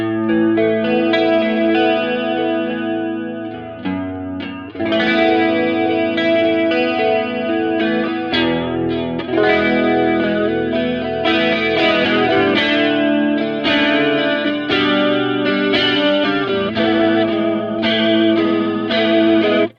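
A clean electric guitar on the neck pickup plays chords and melodic lines through a Warm Audio WA-C1 analogue chorus pedal's shimmering, warbling effect, sustained and fairly loud with no talking.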